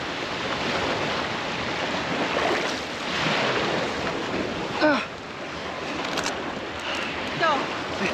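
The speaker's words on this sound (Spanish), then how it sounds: "Estamos en el agua. Vos remá." Paddling a small boat near San Blas: water and surf wash steadily under wind noise on the microphone, with a few brief splashy strokes and short voice-like sounds rising over the continuous background.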